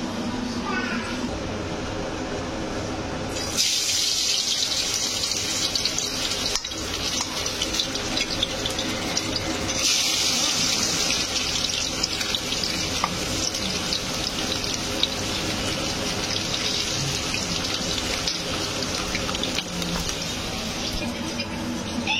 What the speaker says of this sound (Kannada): ಎಣ್ಣೆ ಕಾದಿದೆ. ಇವಾಗ ಒಂದೊಂದಾಗಿ ನಾವು ಹಾಕಿ ತೋರಿಸ್ತೀವಿ.